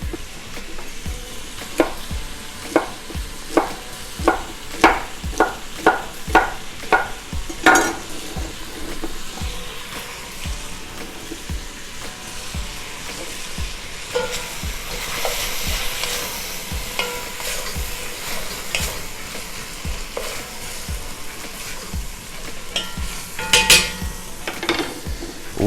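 Chopped leeks and celery stirred in a soup pot, a spoon knocking the pot in a quick run of clinks early on before settling into a steady, close sizzle with scattered scraping stirs and a few more knocks.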